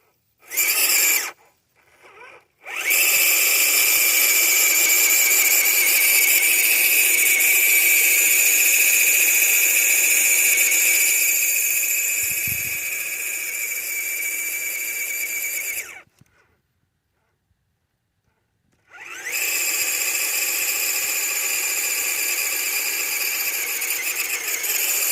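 Team Brood Chaos 35t RC vehicle motor revving at high RPM, a loud, shrill, sustained whine that holds for long stretches, dropping out briefly twice, close and alone.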